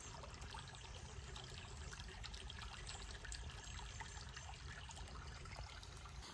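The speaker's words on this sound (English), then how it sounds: "where that tributary was coming in, creates a little waterfall" A small waterfall where a tributary enters a limestone river, giving a steady, continuous trickling and splashing wash of water, moderately close and alone without voices.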